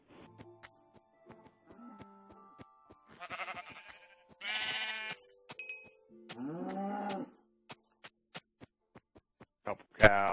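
Sheep in the video game Minecraft bleat in short, wavering calls, loud and close, amid sparse clicks, tones and small game effects.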